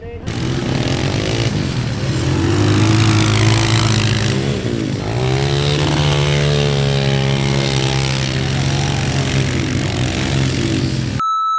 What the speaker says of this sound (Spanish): Se fueron con las motos